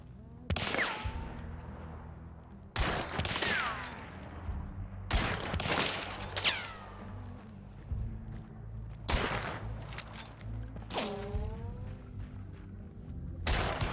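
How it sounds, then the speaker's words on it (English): Winfield lever-action rifle fire in the Hunt: Showdown video game: six loud, sharp shots spread across the span, each with a ringing echoing tail and steady ambient background between them. "the Winfield enabled me to just shoot at movement"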